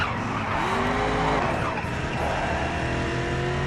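An American muscle car oversteering in Race Driver Grid, its tires squealing in sustained skids over a loud, close engine drone, with pitch sweeping as the car slides through a corner.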